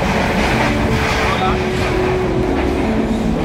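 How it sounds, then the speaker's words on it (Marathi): Inside a moving passenger train on a family trip from Ratnagiri to Gokarna, a constant loud rumble and rattle of the carriage fills the whole stretch, with no clear talk. "आता आम्ही बसलोय ट्रेन मध्ये"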